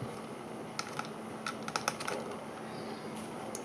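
A computer keyboard is typed on in short clusters of crisp keystrokes, close and moderately loud, with brief pauses between the bursts. No one speaks.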